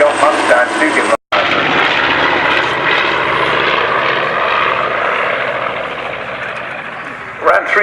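Royal Navy helicopter rocking its rotors during an airshow display, a loud continuous rotor and engine roar filling the whole clip with a brief dropout near the start.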